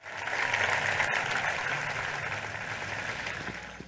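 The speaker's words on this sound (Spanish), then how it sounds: "Le debemos un fuerte aplauso porque la educación de Barranquilla hoy es otra." A crowd gives strong applause at a Barranquilla education gathering honoring school rectors, the clapping swelling quickly, then holding steady before easing slightly.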